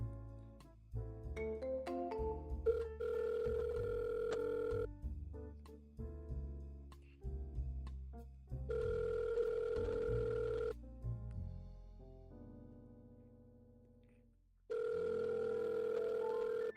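Telephone call ringing out with repeated steady electronic ring tones separated by short gaps, loud and close, before being forwarded to voicemail; no talking.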